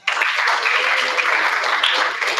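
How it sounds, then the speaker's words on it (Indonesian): Applause from a school event audience at a state senior high school, a dense burst of many hands clapping that starts abruptly and holds steady at full loudness for a couple of seconds. "Oke, boleh tepuk tangannya, Kak."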